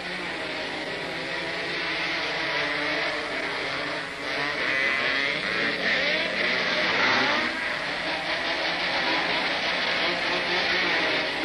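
Motorcycles roar continuously around a muddy dirt short track at a 1971 Daytona race, a loud, sustained engine drone that swells and surges as the bikes pass, with no voices.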